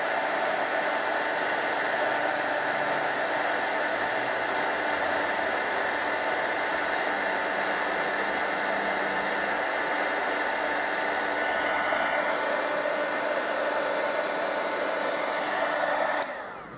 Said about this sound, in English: I'm just going to heat up that powder till it turns like white shiny.